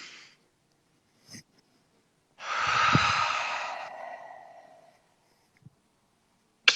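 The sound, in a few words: taking a deep breath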